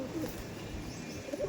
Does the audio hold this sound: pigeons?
yes